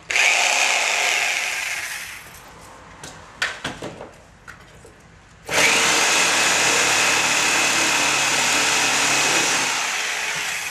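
A loud reciprocating saw cutting plaster and drywall whines steadily, cuts out into a few scattered knocks and scrapes, then roars back up and runs continuously to the end.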